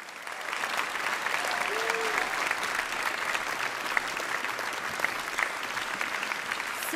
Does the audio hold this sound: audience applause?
yes